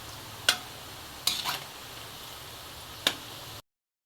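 Crispy oyster mushrooms fry in hot oil, a steady close bubbling hiss punctuated by three sharp utensil clicks, then cutting off abruptly into silence near the end.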